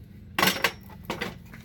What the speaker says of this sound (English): we got our pan, our drain pan